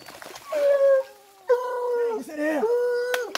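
Hunting dogs on a paca hunt give drawn-out, wavering howls and whines in two or three long bursts, fairly close and loud, with people calling and talking in the background.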